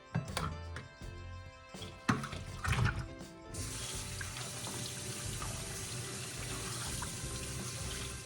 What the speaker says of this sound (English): In the meantime, I rinsed and cut the can of potatoes.